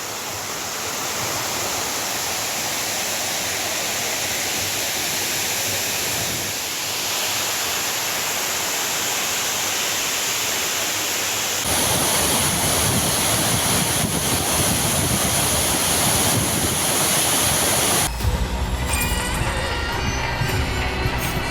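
Water pours heavily over the main falls at Courtallam, swollen with increased flow, a loud, continuous roaring rush of water that stays steady throughout.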